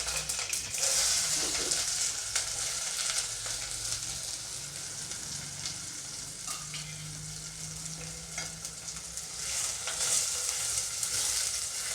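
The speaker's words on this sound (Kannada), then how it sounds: "ಸಾಸಿವೆ ಸಿಡಿದ್ಮೇಲೆ ಒಣಮೆಣಸಿನ್ಕಾಯಿ, ಈರುಳ್ಳಿ, ಕರ್ಬೇವಿನ ಸೊಪ್ಪು ಮತ್ತು ಈರುಳ್ಳಿ ಹಾಕ್ಕೊಂಬಿಡೋಣ." Mustard seeds, dried red chillies, onion and curry leaves fry in hot oil for a green pea curry, giving a continuous close sizzle with scattered pops and crackles and the odd scrape of stirring, with no voices.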